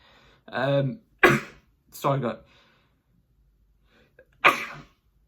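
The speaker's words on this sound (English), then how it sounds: "I'm going to sneeze in a second." A person makes a few sharp, breathy bursts close to the microphone, with a voiced lead-in, ending in a sneeze after a short pause.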